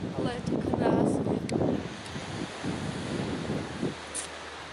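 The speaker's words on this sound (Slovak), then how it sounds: "Dúfam, že ma počujete, lebo fúka tu vietor. Veľmi silný" Strong wind gusting along the coast at Durdle Door in Dorset, a rough roaring buffet against the microphone beneath someone talking, with surf faintly behind.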